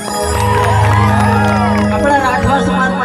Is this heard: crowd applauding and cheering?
yes